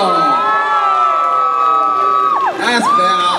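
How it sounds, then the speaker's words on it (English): A crowd at a charity boxing contest cheers, whoops and shouts loudly and steadily, with a few sustained high voices rising above the din throughout. "big round of applause for Freddie"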